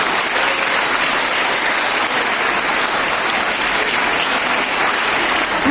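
An audience at a school event in Bareilly claps for the teachers, a dense, loud, continuous applause that holds steady throughout without any talk.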